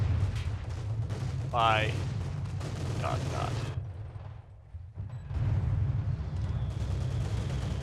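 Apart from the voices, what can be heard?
mortar fire in Company of Heroes 2 video game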